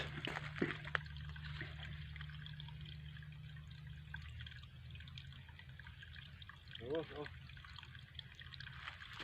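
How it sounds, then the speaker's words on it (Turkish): A quiet creek trickles and babbles steadily in the background while someone says a few words softly in Turkish. "şırıl şırıl akan dereyi biraz daha çekeyim diyorum"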